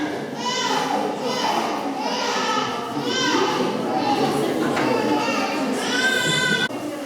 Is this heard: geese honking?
no